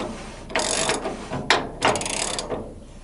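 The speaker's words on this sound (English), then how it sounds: "And then turn it until I can't turn it. Ratchet." Ratchet clicking in close bursts while tightening the upper control arm ball joint nut on a Mopar vehicle, with several rapid ratcheting strokes separated by short pauses and a sharp single click midway.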